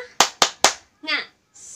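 Three sharp, evenly spaced hand claps, close and loud, performed as a spirit-clap routine at a church Sunday school, followed by a short spoken call.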